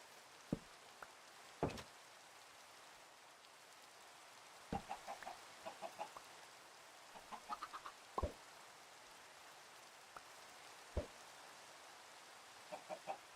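Chickens in Minecraft giving short, sparse clucks, mostly single or in small clusters, quiet against a faint steady background with no talking.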